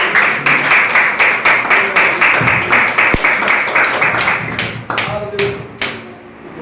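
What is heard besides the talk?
congregation clapping hands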